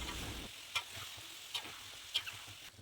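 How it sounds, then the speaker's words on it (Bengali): Chicken pieces frying in oil for a chicken and potato curry: a soft, faint sizzle with three crisp utensil clicks spaced about a second apart. "তেল দিয়ে মাংসগুলো ভেজে নিতে হবে।"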